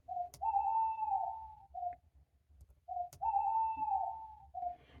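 An owl call played from a button on a children's 50-button farm sound book: two repeated hooting phrases, each a short note, a long wavering hoot and a brief closing note, clear and fairly close.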